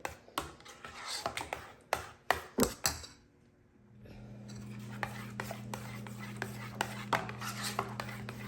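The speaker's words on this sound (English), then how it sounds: "So we're gonna stir them really, really well." Eggs being stirred into a warm mixture in a bowl, with a utensil clinking sharply against the bowl in quick strokes, then a steady hum from a nearby appliance under softer continued stirring.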